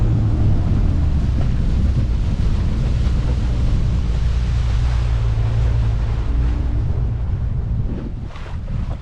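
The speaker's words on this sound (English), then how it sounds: "It's a bit windy in here." Wind roars steadily across the open water of Effingham Inlet while riding a jetski, a dense, low buffeting rush that stays loud and constant before easing slightly near the end.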